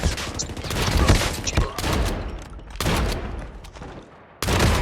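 Video-game gunfire crackles in dense, loud volleys, several bursts separated by brief lulls, with voices talking over the shooting.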